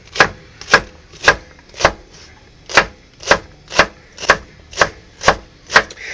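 A knife chops celery for soup on a cutting board, about a dozen crisp, evenly spaced thuds in a steady rhythm, loud and close with no talk.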